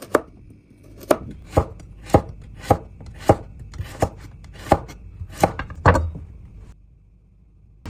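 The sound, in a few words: knife slicing carrot into diamond shapes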